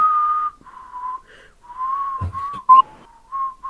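A single person whistles a tune nearby, clear wavering notes in short phrases with brief pauses, one sharp louder blip partway through.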